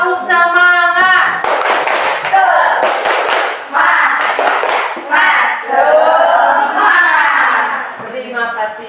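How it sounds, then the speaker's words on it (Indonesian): An audience in a teachers' training class claps a patterned spirit clap in loud rhythmic bursts, with voices chanting and talking between the clapping sections. "Tepuk semangat."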